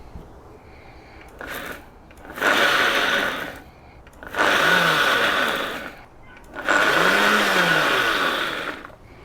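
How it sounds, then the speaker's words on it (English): A kitchen blender purees chimichurri of parsley, garlic and chilies, whirring loudly in three pulses that each build and hold, separated by quieter pauses. "take all these ingredients, mix them in the blender."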